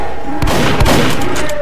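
Rapid gunshots in a Roblox game, loud and close, several sharp booming blasts in quick succession.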